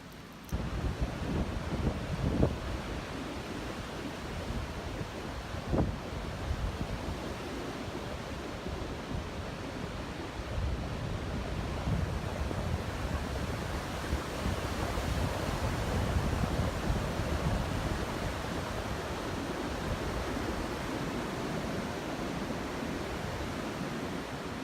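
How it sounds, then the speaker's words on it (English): Wind sweeps over a mountain backpacking trail in Great Smoky Mountains National Park, a steady broad rushing roar with occasional low gusts hitting the microphone, continuous and fairly quiet throughout. "It's still pretty windy, so maybe we'll get lucky and dry out."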